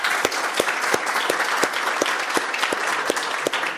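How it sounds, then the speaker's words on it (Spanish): An audience at a Club Monetario meeting at Universidad Finis Terrae applauds steadily, with dense, even clapping and a few sharper claps standing out throughout. "quisiera pedirles en primer lugar un aplauso para Eduardo por el..."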